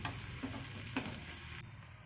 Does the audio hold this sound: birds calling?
no